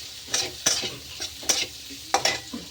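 Beans, capsicum and green chillies frying in a pan for noodles, with quiet intermittent bursts of sizzle and spatula stirring, four or five short scrapes against a faint background.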